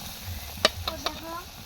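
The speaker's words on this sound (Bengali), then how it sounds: "এখন ভেজে নেবে বেগুনের চপটা।" Eggplant fritters fry in hot oil in a home kitchen during iftar preparations, giving a soft steady sizzle with a few sharp clinks and a stirring scrape.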